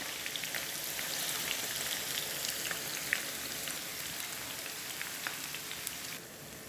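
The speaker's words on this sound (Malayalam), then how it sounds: "ഇപ്പോൾ എണ്ണ നന്നായിട്ട് ചൂടായിട്ടുണ്ട്. ഇനി നമുക്കിതിലേക്ക് അരിഞ്ഞ് വെച്ച സവാള ഇടാം." Sliced onions fry in hot oil for mutton biryani, giving a continuous, moderately loud crackling sizzle with scattered pops throughout, easing slightly at the very end.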